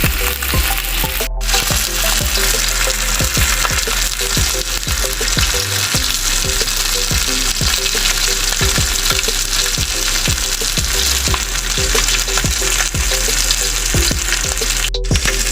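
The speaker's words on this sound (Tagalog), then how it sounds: "Napakabilis ng prito tayo." Loud, continuous sizzling of fish frying in hot oil, with steady crackle and occasional stirring clatter close by.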